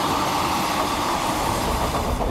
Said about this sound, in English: All trains consist of a single coach propelled up the mountain by a steam locomotive.